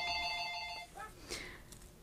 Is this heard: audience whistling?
no